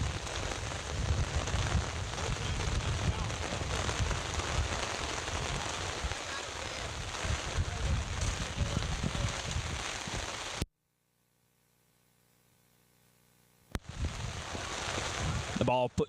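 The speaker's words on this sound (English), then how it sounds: "Looks like a quick summer shower, though, folks." Summer rain shower falling on an outdoor soccer field, a steady broadband hiss of rain for about ten seconds, then a sudden near-silent gap before the rain noise returns, with commentary voices mixed in.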